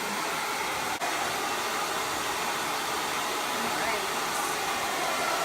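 A hair dryer blows hot air while drying hair sprayed with a color product, a steady loud broadband roar that runs throughout with one brief dip.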